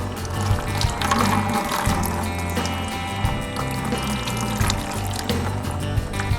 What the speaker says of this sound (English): So I want to wring him out as best as I can.